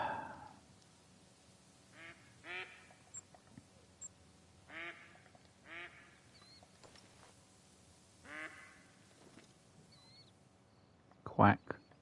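Several clusters of duck quacks ring out at a steady medium distance in theHunter: Call of the Wild, spread across the scene over a low ambient hum, with a sharp louder burst near the end.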